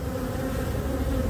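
Dense, steady buzzing of honeybees crowding a brood frame of emerging brood in a spring apiary, close and continuous with no voices.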